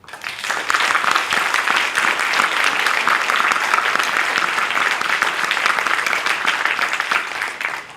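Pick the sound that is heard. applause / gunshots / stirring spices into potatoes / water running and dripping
applause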